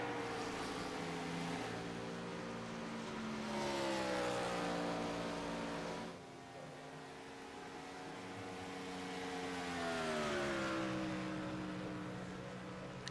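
NASCAR Gen 4 race cars circulate at Charlotte in a racing video game, their engines droning with a harmonic whine that climbs and falls in pitch as they pass, steady and moderately loud, with no talk.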